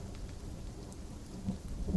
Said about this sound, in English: Ooh, we got thunder sound effects.